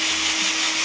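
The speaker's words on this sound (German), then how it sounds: "Da kommt jetzt einfach mal ein Loch durch." A power drill bores a hole through a wooden broomstick, a brief, steady high-pitched whirring grind held at an even level throughout and heard up close.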